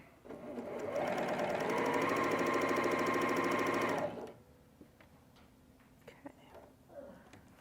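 A Janome HD9 sewing machine runs a steady basting stitch for about four seconds, a fast even mechanical whir that stops abruptly, followed by quiet handling clicks and a faint voice.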